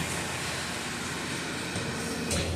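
A New York subway L train on the BMT Canarsie line pulls into a windy First Avenue station, a steady loud rumbling roar with a low hum beneath and a brief rise near the end.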